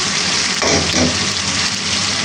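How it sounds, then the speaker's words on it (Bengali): Cut raw jackfruit pieces are dropped into a pan of well-fried spiced masala, setting off a loud, steady sizzle with a brief burst as the pieces land, close and continuous. "এখন আমি এই পর্যা দিয়ে দিব কেটে রাখা কাঁচা কাঁঠাল"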